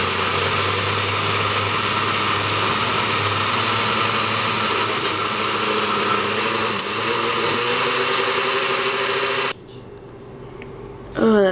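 A food processor whirs loudly and steadily while blending tofu, then cuts off near the end, leaving a brief quiet stretch before a short burst of noise.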